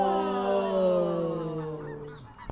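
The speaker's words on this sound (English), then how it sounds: "Those are seagulls." A single drawn-out, honking bird call slides slowly downward in pitch, clear and fairly close, from seagulls and a mallard duck, ending in a brief rustle.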